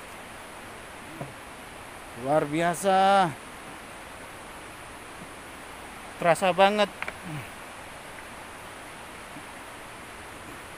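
Tumpak Sewu waterfall roars as a steady, even rush during the rainy season, with a person speaking briefly over it twice.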